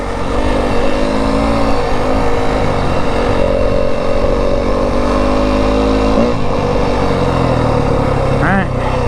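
A 2025 Yamaha WR250F dirt bike rides a dirt road in the Arizona desert, its engine droning steadily and loudly close by with some wind buffeting and a brief change in pitch near the end.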